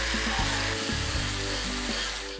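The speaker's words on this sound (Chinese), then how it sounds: "师傅拿着砂轮机把每一个肉眼可见的焊接点仔细磨平" An angle grinder works weld points smooth on a steel moisture-proof storage cabinet, a loud steady whirring grind with repeated shifts in pitch as the disc bites and eases, filling the whole stretch with no talk.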